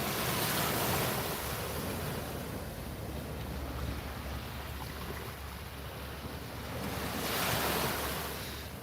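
Slowed-down ocean waves wash in as a broad, continuous roar, swelling loudly at the start and again near the end with a dull hiss between, rumbling low and heavy with wind noise and no voices.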